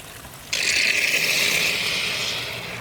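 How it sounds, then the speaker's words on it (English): A pond skimmer pump sucks air with a sudden, steady hissing gurgle that starts abruptly and then slowly fades, close by, with no talking. "That's the pump sucking air."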